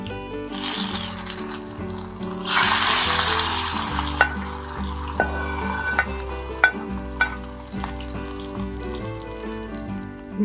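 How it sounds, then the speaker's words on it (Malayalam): Curry leaves and dried chillies crackle as they hit hot oil, a loud burst of sizzling that fades as the tempering is stirred into the curry, with clinks and a melodic background of music underneath. "ഇനി നമ്മൾ ബാക്കി മാറ്റി വെച്ചിരിക്കുന്ന കറിവേപ്പിലയും പിന്നെ ഉണക്കമുളകും ഞാൻ അതിലേക്ക് ചേർത്താണ്"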